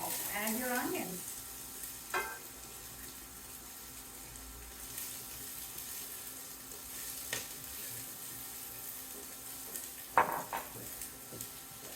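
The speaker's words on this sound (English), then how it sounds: "You want to be over medium-high heat to melt the butter and add your onions." Onions frying in melted butter over medium-high heat, a soft steady sizzle with a few scraping stirs of a utensil against the pan, spaced several seconds apart; no one talks.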